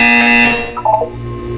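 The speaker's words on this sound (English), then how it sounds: "You will hear a buzzer." A harsh electronic buzzer sounds in the Portal 2 video game, one loud steady tone that fades out in about half a second, followed by a short burst of other game sound.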